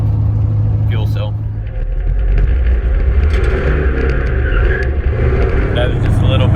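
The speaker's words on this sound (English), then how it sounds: "That was just a little baby skid." A car drifting with a hydraulic handbrake makes a steady, loud engine rumble that runs throughout. A brief tyre skid rises out of it, and a voice speaks over the top.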